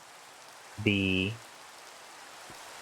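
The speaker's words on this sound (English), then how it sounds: "let's get rid of the rain sound" Steady, soft hiss of rain in a modded Minecraft game, running throughout beneath a short spoken word from a man.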